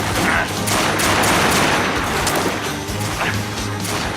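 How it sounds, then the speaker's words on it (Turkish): Rapid bursts of gunfire crackle continuously, loud and dense, with scattered sharper cracks throughout. "kurşun sesine maşallah"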